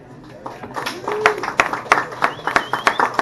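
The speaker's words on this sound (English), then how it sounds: "Let's give another round of applause to all the comedians tonight" Scattered audience clapping for comedians at a comedy showcase in Bradenton, sparse at first and then building into distinct, fairly loud claps, with a voice heard briefly under it.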